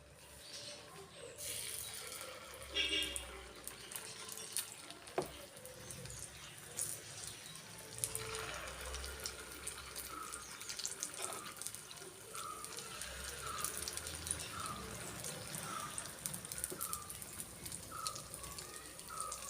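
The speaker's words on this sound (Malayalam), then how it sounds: "ഇനി നമുക്ക് ഓരോ കുഴിയിലോട്ടും മാവ് ഒഴിച്ചു കൊടുക്കാം" Idli batter poured into hot oil in the cups of an appe pan, a continuous watery hiss and bubbling sizzle with small splashes, steady and close, no talking.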